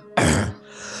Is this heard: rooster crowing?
no